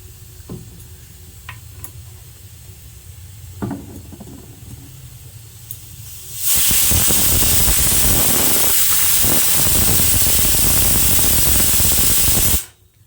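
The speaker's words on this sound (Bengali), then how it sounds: "কড়াইটা গরম হয়ে গেছে কড়াইতে তেল দিয়ে দিলাম" Oil heating in a hot wok for chana dal: quiet ticks and small clicks at first, then a sudden loud, sustained hiss of spray and sizzle that cuts off abruptly near the end.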